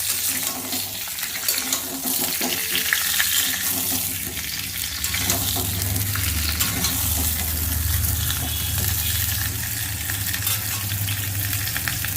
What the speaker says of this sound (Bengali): এবার আমি আলুগুলো একটু ভেজে নেব।